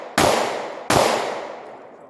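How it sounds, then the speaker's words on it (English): Firearm firing two sharp shots about a second apart, each with a long ringing decay, from a gun with an out-of-spec barrel chamber that is failing to extract; loud and close with no talk. "Let me just fire a couple of shots so you guys can see the type of jam that we're having."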